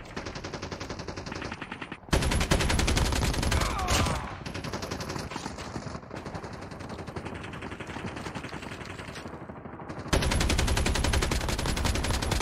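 Rapid automatic gunfire from the COD Mobile video game comes in long, dense bursts of shots, loud and continuous with brief breaks between volleys.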